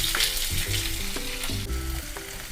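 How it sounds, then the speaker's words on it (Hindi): Steady sizzling and crackling of onions frying in a hot pan with garlic and ginger, with a few clinks of a utensil stirring throughout. "हल्का ब्राउन होने तक हम अनियन को भूनेंगे"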